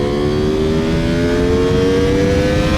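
A 2021 Ducati Panigale Superleggera V4 motorcycle on a track in race mode, its engine droning loud and steady at high revs with a slowly rising pitch, no voices.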